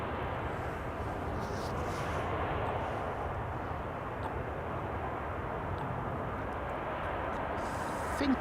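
A KLM Boeing 747 rolls down the runway at Amsterdam Schiphol Airport, a steady broadband jet roar heard from a distance and holding even throughout, with a slight swell near the end.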